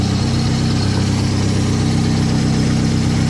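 A Mazda MX-5 Miata engine fitted with coil-on-plug ignition idles steadily and close by, a smooth, even low hum with a constant rhythm and no talking.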